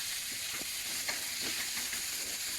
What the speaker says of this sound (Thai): หลังจากนั้นผัดหน่อไม้ฝรั่งจนกว่าจะสุกนะคะ